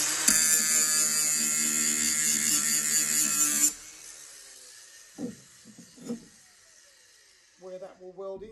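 A power tool whines loudly and steadily for about four seconds as it cleans mill scale off a steel plate being prepared for welding, then stops, followed by quiet speech.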